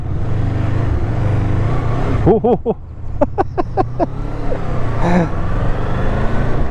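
A Honda VFR800FE touring motorcycle pulls away. A rumbling engine runs throughout, broken by a series of sharp rising revs and gear changes. Louder bursts mark each shift, and there is no clear speech.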